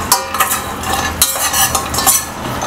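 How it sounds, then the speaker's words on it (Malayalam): Chopped nuts roasting in a heavy-bottomed pan, stirred with a utensil that scrapes and clinks against the metal over a continuous dry rustle, loud and close, with no voices. "പാത്രം ചുവട് കട്ടിയുള്ള ഒരു പാത്രം വെക്കാം അതിലേക്ക് നമ്മൾ അരിഞ്ഞു വെച്ചിരിക്കുന്ന നട്സ് ചേർത്ത് കൊടുത്ത് ഒന്ന് വറുത്തെടുക്കണം"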